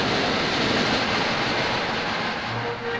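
A train arriving at Victoria station in London in the 1950s, a continuous loud rumble of rolling wheels and carriages that eases slightly toward the end, with a faint squeal as it slows.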